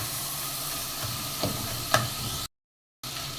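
Soaked chana dal being sautéed with tomato in a pan, a steady close sizzle with a couple of sharp stirring scrapes before a short dropout.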